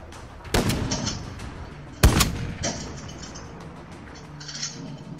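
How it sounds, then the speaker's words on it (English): Call of Duty: Modern Warfare gunfire: two loud, sharp shots about a second and a half apart, each followed by a rumbling echo tail, with faint chirping ambience between them. "Who is he shooting at?"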